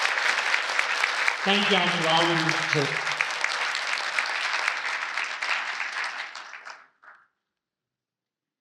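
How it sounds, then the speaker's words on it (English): A Veterans Day ceremony crowd claps steadily and fairly loudly for several seconds, then the applause fades and stops abruptly. Someone speaks briefly over the clapping near the start. "I would like to ask for a round of applause for the Trail Life tribute."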